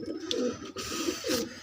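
A pigeon coos nearby in a couple of low, burbling phrases separated by a brief pause, fairly quiet and with no speech over it.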